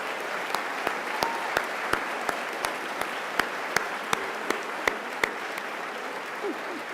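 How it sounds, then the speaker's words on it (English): An audience claps at a college liberal arts commencement ceremony, with a scattered round of applause made of distinct, fairly sparse claps that continue steadily for several seconds in a large hall. "Let's give them a round of applause."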